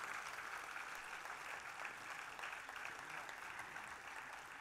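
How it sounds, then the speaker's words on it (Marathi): An audience applauds in an auditorium at a stage event as a guest is called up, a dense, steady, fairly distant clapping that carries on evenly with no voices over it. "जोरदार टाळ्या हरीशजींसाठी आपण वाजवल्या पाहिजेत"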